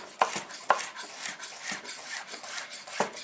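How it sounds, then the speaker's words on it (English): A knife rolls through courgette on a chopping board, giving a series of soft, irregular close-up chops with a few sharper knocks against the board and no voices. "This hand's the guide, and I'm rolling the knife."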